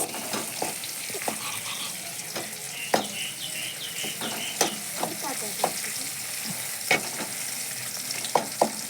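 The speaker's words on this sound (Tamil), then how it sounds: "இது நல்லா வதக்கணும்" Crab curry ingredients with curry leaves being sautéed in a pan, a steady sizzle of frying broken by sharp, repeated clinks and scrapes of a stirring spoon, close up and with no talk.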